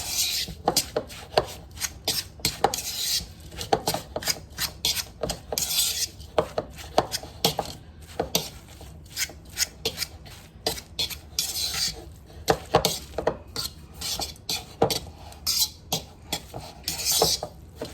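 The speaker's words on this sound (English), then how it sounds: "And then just stir to combine." Ingredients for salmon patties are stirred together in a bowl, with repeated rhythmic scraping and clinking of a utensil against the bowl, close and fairly loud, and no talking.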